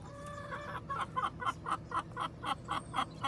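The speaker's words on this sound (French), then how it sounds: "Qu'est-ce qu'elle fout, la poule?" A hen clucks in a steady run of about ten short, evenly spaced calls, fairly close and clear over a low background rumble, with no talk.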